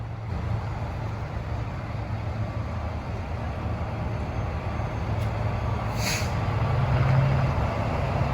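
A truck backing up, a continuous low diesel rumble heard close and steady throughout, with a brief hiss near the end.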